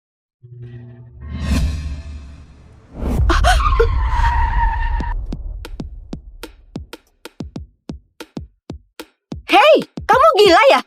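A car speeds in and skids to a stop with a loud whoosh and long screeching tire squeal, followed by a sequence of sharp clicks and short agitated voices at the end.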